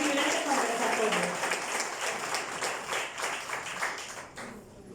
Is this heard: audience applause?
yes